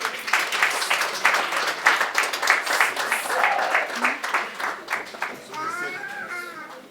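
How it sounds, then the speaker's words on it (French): A church congregation at a memorial service applauds and encourages Bijou, with a bright, steady clatter of clapping mixed with chatter and children's voices, fading toward the end. "Bijou aime quand on l'applaudit, quand on l'encourage."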